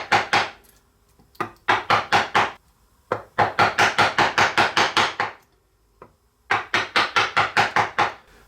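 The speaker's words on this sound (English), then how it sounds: "So I'm going to continue to chisel these." Hammer blows drive a chisel into a piece of wood in quick, even runs of sharp knocks, about three per second. Short pauses break the series, and each strike rings close and loud with nobody talking.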